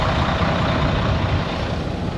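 A truck engine runs after cranking, a loud, steady low rumble that stays even from start to finish with no talking over it.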